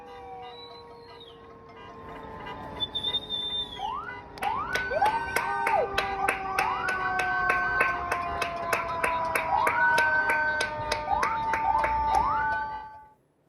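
People who have stepped out of their cars applaud health workers and doctors with clapping, cheers and a patriotic song, while car horns sound long tones. The crowd noise builds and grows loud and sustained before fading at the end.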